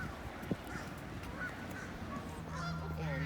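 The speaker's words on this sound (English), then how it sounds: "We saw lots of different birds and different types of ducks and geese." Geese honk at a spring pond during a nature walk, a few calls rising over a steady outdoor background, with a longer, fuller honking stretch toward the end.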